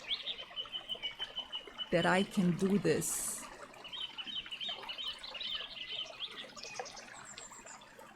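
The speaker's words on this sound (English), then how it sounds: "The birds seem to agree because they're still chirping as I walk." Birds chirp outdoors with small, high repeated calls scattered behind a person talking close by, faint but present across the whole stretch.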